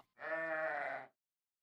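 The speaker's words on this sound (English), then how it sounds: "a young shepherd named David tended his father's sheep" A single sheep bleats once, a clear wavering cry lasting about a second, close and alone against silence.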